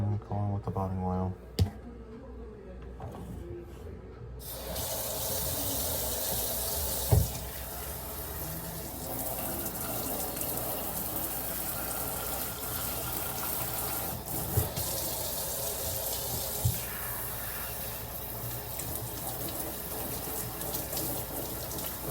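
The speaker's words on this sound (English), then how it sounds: "I'm gonna rinse this out." Running water rinses hair product out during a wash, a steady close gush from a tap that starts a few seconds in and flows continuously, with a few small knocks.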